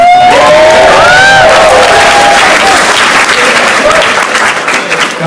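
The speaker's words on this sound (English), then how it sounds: "Everyone give Mr. Christopher Wagner a round of" An audience breaks into loud applause at a mindset speaking event, dense clapping mixed with cheers and whoops that holds strong before easing slightly at the end.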